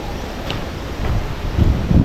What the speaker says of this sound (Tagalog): Yun, malakas pang hangin.